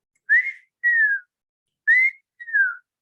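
A person whistles an imitation of a familiar grassland bird's call: four clear whistled notes in two pairs, each pair a short rising note then a longer falling one, close and alone against silence.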